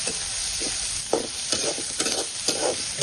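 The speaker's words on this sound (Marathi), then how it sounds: "मिरची आणि कांदा थोडं लालसर होईपर्यंत परतून घ्यायचं" Chopped onion and green chilli fry in a pan over a wood-fired stove for raw tomato chutney, with a steady close sizzle broken by short scraping stirs.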